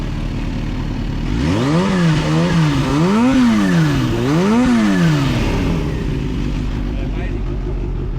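A Kawasaki ZH2 motorcycle engine revs up and down several times in a rising-and-falling pattern, loud and close, before settling back to idle.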